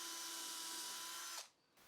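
A power drill bores hinge screw holes into a wooden sewing treadle cabinet, a loud steady whine for over a second that cuts off abruptly, then quiet.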